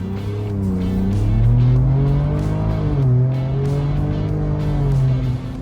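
A Ford Ranger Raptor with an upgraded turbo accelerating hard in third gear, its engine note rising loud and close and holding high revs up to about 6,000 RPM with a brief dip during the run.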